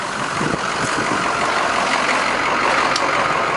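A 2006 Ford F250 King Ranch FX4 truck engine runs steadily at idle, a close, constant low rumble with no break and no talking.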